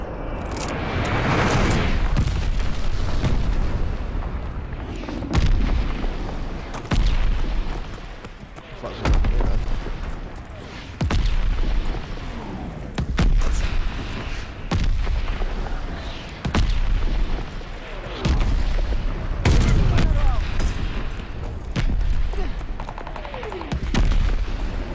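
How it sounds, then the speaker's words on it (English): Enemy glide bombs explode in Call of Duty: repeated heavy booms and rumbling blasts mixed with gunfire, in bursts of a second or two across the whole stretch, with voices talking over them. "Got an enemy glide bomb on the way."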